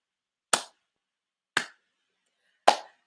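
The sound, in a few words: slow hand clapping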